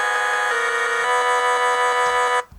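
A bright, buzzy synth tone plays a steady electronic melody with a few note changes, loud and sustained, then cuts off abruptly near the end.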